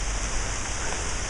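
Morning rain falls as a steady, close, broadband hiss that holds at an even level throughout, with no voices.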